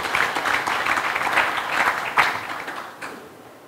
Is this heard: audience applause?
yes